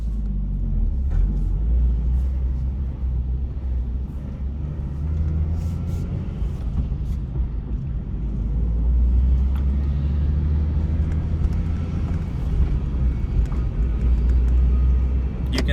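A Nissan 350Z pulling away in first gear gives a steady, loud low engine rumble with exhaust drone. It holds for the whole stretch with no talking.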